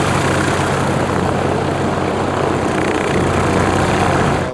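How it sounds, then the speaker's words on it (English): A 1951 Cessna L-19 Bird Dog light aircraft engine drones steadily and loudly throughout, a continuous propeller roar with no talking. "The airplane's a 1951 Cessna L-19 Bird Dog."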